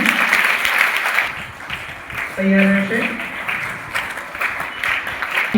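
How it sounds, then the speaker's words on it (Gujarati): Students clap together at an event at Chatrabhuj School in Palitana, a dense, steady round of applause filling the hall, with someone speaking over it through a microphone. "આપણે તાળીઓ જરૂર રાખશું વિદ્યાર્થી મિત્રો."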